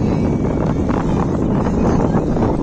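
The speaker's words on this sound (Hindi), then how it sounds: "बहुत अच्छी हवा चल रही," A cool, strong wind rushes across the microphone at Aksa beach, a loud, continuous rumbling roar that keeps going with no letup.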